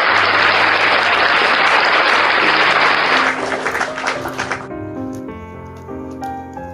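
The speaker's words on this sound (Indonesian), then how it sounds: "Tepuk tangan buat Deluxe yang cantik dan manis" An audience at a Christian question-and-answer gathering breaks into loud, dense applause for about three seconds, then it thins to scattered claps as soft musical tones come in beneath it.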